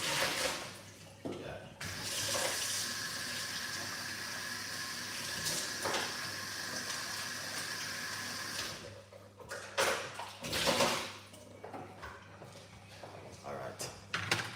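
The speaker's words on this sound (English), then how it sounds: "Let's wash them off." Beetroots are washed under a running kitchen tap, a continuous hiss of flowing water with brief splashes and pauses, and a person talks over the sound.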